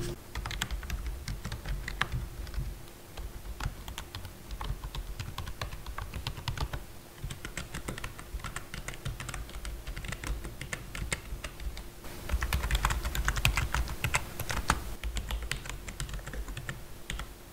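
Several budget membrane computer keyboards typed on in turn, a steady stream of soft, rapid key clicks near the microphone, growing a little louder and busier toward the end, with no talk.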